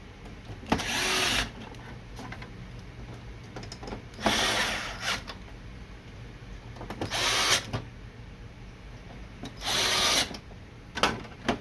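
Screws being driven back into an HP Deskjet 2540 printer with a power driver: four short, loud whirring bursts separated by quiet pauses.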